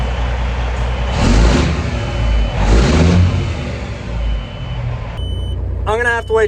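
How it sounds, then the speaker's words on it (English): Truck low air pressure warning beeping, a steady tone behind loud idling engine rumble and road noise, with a voice speaking near the end. "wait till that stupid low air beeping goes away"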